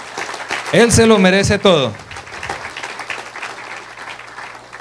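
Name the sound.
congregation applause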